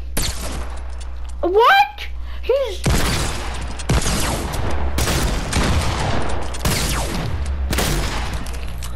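Rapid bursts of gunfire in a Fortnite Creative free-for-all match, several loud, sharp volleys spaced across the stretch with a short spoken exclamation near the start.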